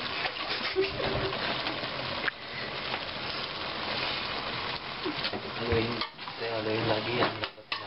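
Menudo being stirred in a cooking pot with green pepper, a steady scraping and clinking of a utensil against the pot over a continuous sizzle, with voices talking in the background.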